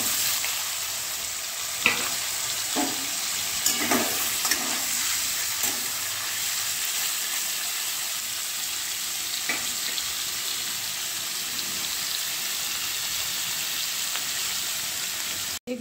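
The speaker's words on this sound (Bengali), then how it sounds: "এবার পনিরগুলো আমি একটু ভেজে নেব।" Paneer pieces fry in hot oil and butter in a pan, giving a steady quiet sizzle with occasional sharper pops and spatters throughout.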